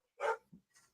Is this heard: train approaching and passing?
no